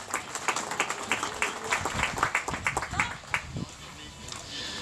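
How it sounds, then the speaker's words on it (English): Scattered audience applause at an outdoor zoo flamingo show in Nassau, Bahamas, with uneven claps rising and falling, moderately close, mixed with crowd murmur and some talk. "a round of applause as they come to their first stop"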